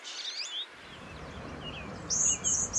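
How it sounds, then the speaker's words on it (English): A goldfinch sings in bright high chirps and twittering phrases, with a quiet stretch in the middle before a few more clear, repeated notes near the end, fairly close and alone. "The answer is a goldfinch."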